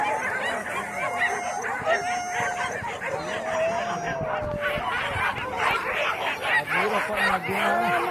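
A dog barks and yips amid a lively mix of voices and laughter, with other animal-like cries close by.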